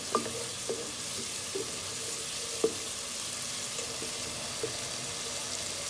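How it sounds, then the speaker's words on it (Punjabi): Masala spices fry in a pan for a village-style aloo baingan sabzi with tomatoes, a steady close sizzle broken by occasional sharp scrapes and knocks of a spoon against the pan. "ਤਾਂ ਮਸਾਲੇ ਵੀ ਚੰਗੀ ਤਰ੍ਹਾਂ ਭੁੱਜ ਜਾਣ"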